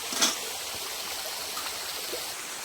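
Stream water in Sanjay Gandhi National Park flows and trickles steadily in a gentle, continuous wash, with a brief faint knock near the start.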